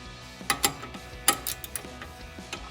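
Ratchet wrench clicking as stock bolts come off a Jeep Wrangler JL's steering stabilizer, short sharp ratcheting bursts in a few quick spurts, close and fairly quiet, with no talk.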